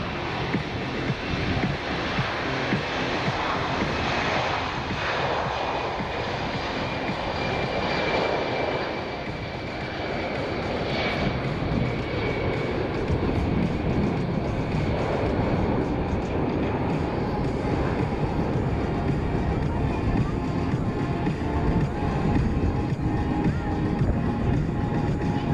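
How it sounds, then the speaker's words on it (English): A C-17 Globemaster III military jet from the 97th Air Mobility Wing, Altus Air Force Base, on its takeoff roll at the 2024 ROC Airshow in Rochester, New York: a steady, loud, broadband jet engine roar that holds for the whole stretch. "on the takeoff roll from the 97th Air Mobility Wing and Altus Air Force Base in Oklahoma, presenting the C-17 Globemaster 3."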